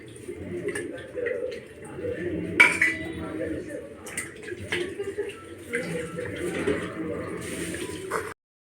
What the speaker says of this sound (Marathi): आता मी मच्छी स्वच्छ धुवून घेते